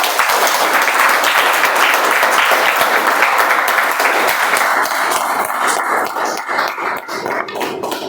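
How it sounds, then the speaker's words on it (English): An audience at a Toastmasters club meeting gives a loud, dense round of applause, sustained clapping that thins slightly toward the end. "Please join me in extending a big round of applause to the Whitefield Toastmasters Club Executive Team"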